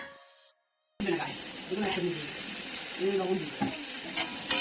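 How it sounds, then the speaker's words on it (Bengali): Raw onions hitting hot oil in a pan: after a brief gap a dense, steady sizzle sets in close by, with some stirring and crackle swelling and easing over a few seconds. "এবার তেলের মধ্যে দিয়ে দেবো হচ্ছে পেঁয়াজ, কাঁচা পেঁয়াজ দিয়ে দিচ্ছি। তো পেঁয়াজটা একটু ভাজা ভাজা হয়ে যাবে"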